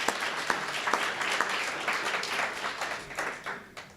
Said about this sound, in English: Can we give a round of applause for our great city manager?